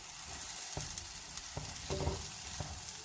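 Suji halwa roasts and cooks in a pan under a constant dense hiss, while a few sharp spoon knocks and scrapes land at irregular intervals, close by.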